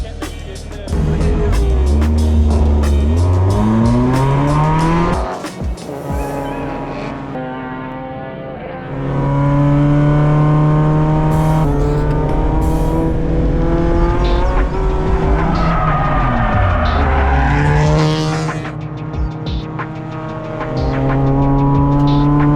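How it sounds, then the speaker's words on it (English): Mazda Miata race car lapping a track, a loud near engine rising and falling through gear changes, with brief lifts and repeated rev climbs. "I'm gonna go out in the Miata because I already have a few laps in the old RX-7"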